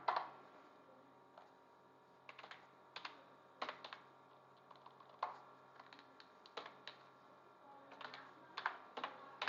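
Close, clicky typing on a computer keyboard while HTML code is entered, with irregular bursts and single keystrokes over a faint steady hum and no talking.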